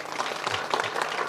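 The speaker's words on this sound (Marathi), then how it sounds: "त्यांच्यासाठी एकदा टाळ्या." A kirtan audience breaks into applause, a steady wash of clapping from a crowd at moderate loudness that carries through the short moment.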